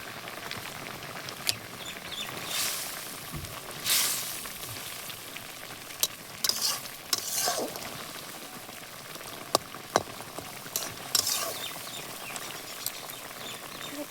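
Fish cooking in simmering sour broth with boiled potatoes gives a soft, steady sizzle and bubbling, with scattered sharp pops and crackles, fairly close and not very loud.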